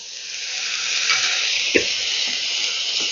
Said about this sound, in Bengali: এবার দিয়ে দিচ্ছি সেদ্ধ করা ব্রকলিটা